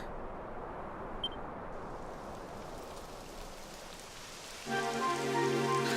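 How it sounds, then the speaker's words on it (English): Steady rain patters and hisses continuously in the video game Dragon Quest XI, with a faint electronic chirp early on and a tonal music-like layer joining near the end. "It would have to go and start raining, wouldn't it?"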